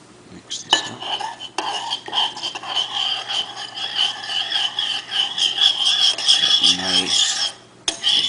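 A spoon scrapes and clinks against a container while stirring salt into white vinegar to dissolve it, a steady rasping swirl with faint whispery voice underneath.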